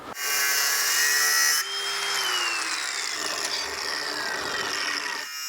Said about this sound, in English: I'm literally just going to cut the disc to relieve the threads.